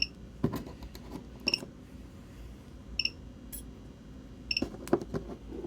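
A DIY mini spot welder powered by a 12V LiFePO4 battery fires a handful of sharp, close snaps at uneven intervals over a low, steady background hum.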